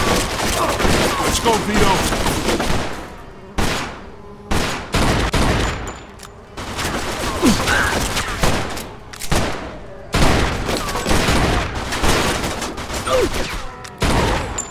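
A chaotic Mafia 2 shootout with dense, loud gunfire from several weapons, overlapping bursts and single shots in uneven clusters over about fifteen seconds, with occasional brief speech mixed in.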